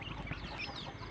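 Rhode Island Red chickens clucking softly in a coop, faint murmuring hen calls with a few brief higher notes over low background rumble, quiet and close.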